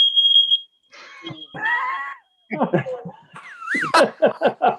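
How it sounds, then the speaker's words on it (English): A shrill, high-pitched electronic beep sounds at the start, then people laugh and talk loudly nearby. "it's very good that the smoke alarm works"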